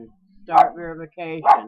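A pet dog gives two short, loud barks close by, separated by speech, with a person talking indoors around them.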